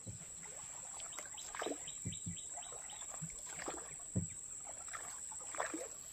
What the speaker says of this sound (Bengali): একের পর এক নৌকা কিন্তু কাঁকড়া ধরার জন্য গভীর জঙ্গলে যাচ্ছে